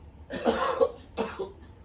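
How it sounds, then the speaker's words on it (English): Two forceful coughs close up, the first longer and harsher, the second shorter, with a brief pause between them. "And cough it out."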